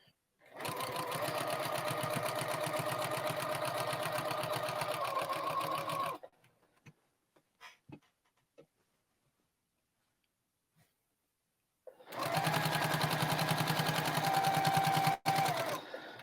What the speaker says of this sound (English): And then we'll sew off to the corner.